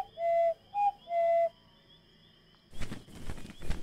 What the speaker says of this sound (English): we used the owl whistle.